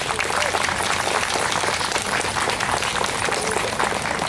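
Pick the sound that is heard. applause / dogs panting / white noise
applause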